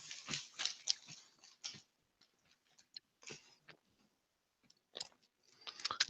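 Close, crunchy bites and chewing of potato chips in quick irregular bursts separated by short pauses, faint and near the microphone, with no talking.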